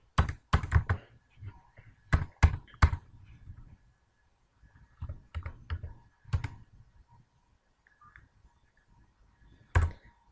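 Keystrokes on a computer keyboard while coding in PHP, coming in quick irregular bursts of clicks separated by pauses, close and clear with no talking over them.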